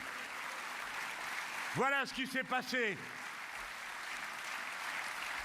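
Crowd applause at a political rally in Saint-Pierre-des-Corps forms a continuous hiss-like wash throughout, with someone briefly speaking over it.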